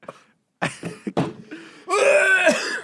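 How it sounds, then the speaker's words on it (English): A single person coughs harshly a few times in quick bursts, then breaks into a longer laughing, wheezy fit, close and loud with no talk over it. "At least you're not sick, as you just coughed up a lung."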